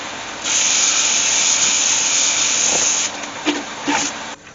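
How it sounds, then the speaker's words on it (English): A high-pitched electric whirring drone runs steadily for a few seconds, then cuts in and out with scraping bumps before stopping, as a Hope sanding arm sands the inside of a hollow oak urn. "I'm going to use this Hope sanding arm"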